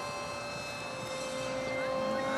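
A student-built Arrowhead model aircraft makes a steady, continuous engine drone as it flies by, holding an even tone that gets a little louder toward the end, with no talking.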